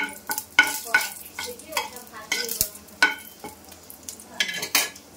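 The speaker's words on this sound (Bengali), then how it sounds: "এবার আমি সর্ষের তেল দিচ্ছি, দিয়ে আমি এখানে আছে জিরে আর তেজপাতা ফোড়ন দিচ্ছি" Cumin seeds and bay leaf tempering in hot mustard oil in a Bengali kitchen: sharp sizzling bursts alongside rhythmic spatula scrapes and clinks against the pan, close and fairly loud, no talking.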